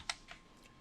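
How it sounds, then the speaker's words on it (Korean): Two or three quick, faint clicks of computer keyboard keys as Shift and Page Down are pressed, close and isolated over a quiet background. "Shift 키 누르고 페이지 다운."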